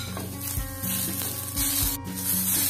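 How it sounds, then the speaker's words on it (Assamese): Ginger garlic paste frying in a pan for an egg and greens dish, a steady close sizzle with spatula scrapes and stirring, all without any talk. "এইখিনি মই ভাজি ল'ম অলপমান"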